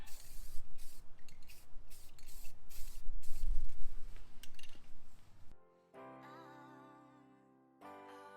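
Spray paint hisses in quick short bursts onto a wrought iron fence, a rapid series of close aerosol puffs followed by a few brief quieter sprays.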